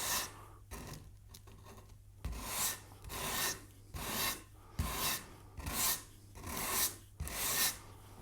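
Wood veneer on a Les Paul guitar body is hand sanded in about eight steady, raspy back-and-forth strokes, close and clear with short pauses between them.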